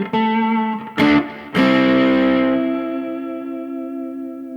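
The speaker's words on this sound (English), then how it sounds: "If we try a tube screamer," Electric guitar with PRS SE NF3 pickups driven through a Tube Screamer overdrive: a couple of short strums, then a ringing overdriven chord that sustains and slowly fades, with no talking.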